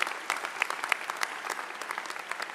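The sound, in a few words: audience applause for the university leadership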